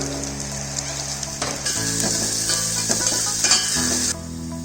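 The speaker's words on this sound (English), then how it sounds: "Heat oil in a pan, add sliced onions, a bit of sugar." Sliced onions with a bit of sugar frying in hot oil in a pan, a loud continuous sizzle with stirring and clinks of a utensil against the pan, briefly quieter near the end.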